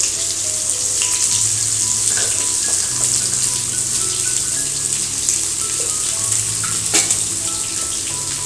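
Onions sizzle loudly and steadily in hot oil for a plantain fry, a dense continuous crackle with occasional soft stirring clicks and no talk.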